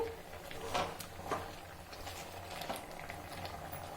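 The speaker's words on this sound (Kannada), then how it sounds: "ಈ ನೀರಲ್ಲೇ ಬೇಯಲಿ ಕುಂಬಳಕಾಯಿ." Pieces of ash gourd (pumpkin) boil in water in a pot for a milk-based sambar, with faint, soft bubbling and occasional small pops heard up close at a low, steady level.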